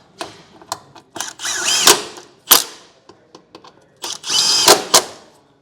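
A power tool drives and tightens bolts on a running board mounting plate of a 2022 Toyota Tundra, in short buzzing bursts with brief ratcheting taps between them and two longer runs, close and loud.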